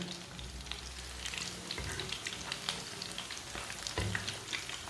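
Chicken seekh kebabs fry in a pan, a soft continuous sizzle and spatter with occasional clacks and shuffles as they are turned, close but fairly quiet.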